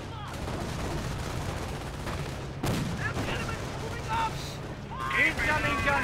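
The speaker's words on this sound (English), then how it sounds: "Incoming gunfire" Crackling small-arms and machine-gun fire in the World War II strategy game Company of Heroes, steady rattling bursts with a heavier thump midway, running under a commentator's talk throughout.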